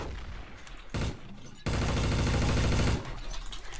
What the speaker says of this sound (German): Dick hat auf mich geschossen!